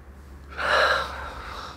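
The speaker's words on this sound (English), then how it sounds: "That was a yawn." A single drawn-out breathy exhale, like a yawn, rising and then trailing off, close and alone.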